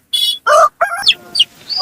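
A rooster crows nearby in a few short, loud bursts with brief pauses between, with no talking.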